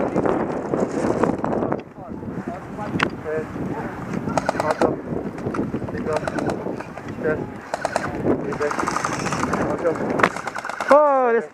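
Airsoft guns firing in rapid bursts during an outdoor skirmish, loud clattering shots over continuous wind and background noise, with people talking throughout.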